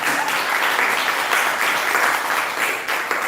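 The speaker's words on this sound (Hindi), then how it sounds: "एक बार मेरी तरफ से भी जोरदार तालियां।" Dense, sustained applause from an indoor audience at a question-and-answer session, steady and loud throughout with no talk over it.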